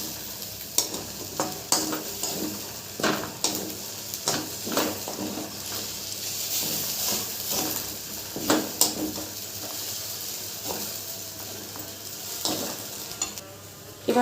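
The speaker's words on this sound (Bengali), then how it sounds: "এবার একটু নাড়াচাড়া করে নেবো। মশলাটা খুব ভালো করে আমার পুরো চালটার সাথে মাখিয়ে নিতে হবে।" Spiced rice stirred in a frying pan, a spoon scraping and knocking against the metal in irregular strokes over a soft sizzle, close and moderately loud with no one speaking.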